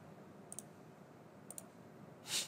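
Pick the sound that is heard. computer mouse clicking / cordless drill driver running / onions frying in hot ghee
computer mouse clicking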